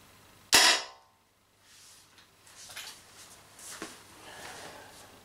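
Tippmann Stormer Elite paintball marker fired on HPA, a single sharp, loud close pop with a brief decaying tail, followed by faint handling noises.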